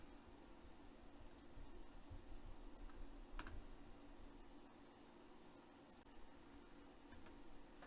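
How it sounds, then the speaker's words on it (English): A computer keyboard's arrow key is pressed during 2D face rigging work in Blender 2.79, giving a few sparse, faint clicks over a quiet steady hiss. "I'm just pressing the arrow key"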